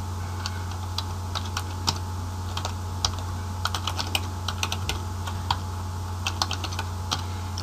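Someone types on a computer keyboard, naming a database in MS Access: soft, irregular key clicks in short runs over a low steady hum of room noise.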